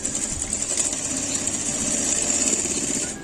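Sewing machine stitching a lined blouse sleeve: a rapid, steady mechanical chatter with a faint high whine, running continuously and close for a few seconds, without speech.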